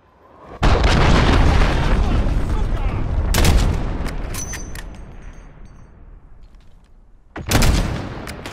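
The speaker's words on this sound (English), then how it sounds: "Enemy cruise missile." A cruise missile strike in the Call of Duty Modern Warfare video game hits with a loud, close blast that rolls into a long rumbling decay, then a second heavy explosion, with gunfire crackling in between.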